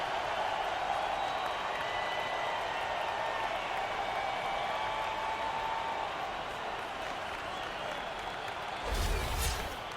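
A stadium crowd in the NBA 2K16 basketball video game cheers and applauds in a steady, dense roar that fills the space, swelling briefly near the end.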